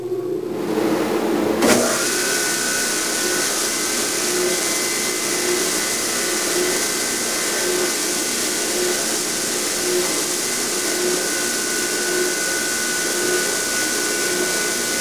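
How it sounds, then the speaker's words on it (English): A stationary edge sander starts up and runs with a loud, steady whir, smoothing the outside radius of a wooden rib for a bending form, with no talking. "This stationary edge sander is the perfect tool for smoothing off the outside radius of this rib."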